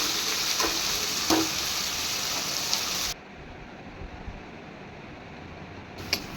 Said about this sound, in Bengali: সেই কাঁচা কলাগুলো একটু কড়াইতে ভেজে নিচ্ছি